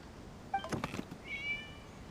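A cat in Genshin Impact lets out two short meows, a faint rising one followed by a brighter drawn-out mew, with a soft scuffle of thumps between them against a quiet background.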